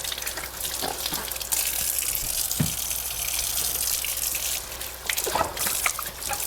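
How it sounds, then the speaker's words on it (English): Tap water runs steadily into a sink while a zucchini is rinsed under it, a close, loud continuous gush with splashes and shifting spatter as the squash is turned in the stream. "Let's rinse it off."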